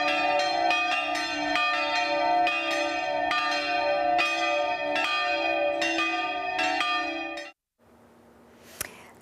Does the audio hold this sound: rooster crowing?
no